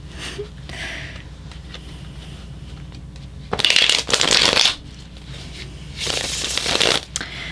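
Tarot cards being shuffled up close, with quiet handling and rustling broken by two louder riffling bursts, one in the middle and one near the end.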